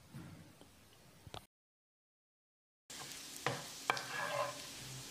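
Cumin seeds and finely chopped garlic stirred and frying in a pan, a quiet sizzle with scraping spoon strokes, broken by a gap of silence.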